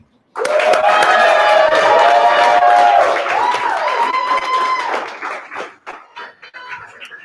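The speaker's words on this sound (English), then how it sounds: "give a huge, huge round of applause for the reason we are all here tonight, Marilyn." Audience at a storytelling fundraiser bursting into loud sustained applause with whoops and cheers, dense and close, then thinning out into scattered claps before fading.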